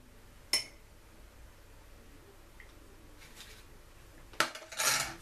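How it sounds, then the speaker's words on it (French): Fork stirring an egg into mug cake batter inside a mug, heard as a few close clinks and scrapes against ceramic, with a sharp knock near the start and a brighter burst of clinking toward the end over quiet room tone. "Avec notre fourchette, on mélange le tout."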